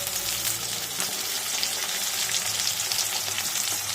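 Onions salted in hot oil fry with a dense, steady sizzle and occasional stirring, close and continuous, for a methi chicken dish; no voices.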